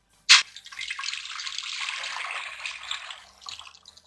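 Yakhni, a chicken stock, is poured into a pot after a sharp knock, a close, continuous liquid splash lasting a few seconds and then tapering off, with no talking.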